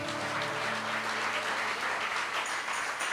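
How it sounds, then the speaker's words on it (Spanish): A church congregation claps in praise, a continuous, moderately distant wash of applause with a faint sustained tone beneath it. "Dele un aplauso al Señor."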